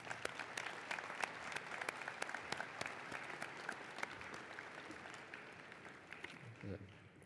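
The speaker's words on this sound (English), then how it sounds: "let's give a round of applause to our family and friends who are here" Applause from family and friends at a winter commencement ceremony: a steady, moderately distant wash of many hands clapping with sharp individual claps standing out, fading toward the end as a voice comes in.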